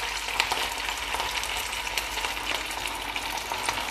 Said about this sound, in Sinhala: දැන් මම මේ වගේ පාන් පෙත්තක් අරන් මේ විදිහට මෙහෙම තෙලක දානවා